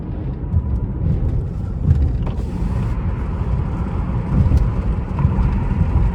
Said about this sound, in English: Why he revving his shit for like a bad bitch?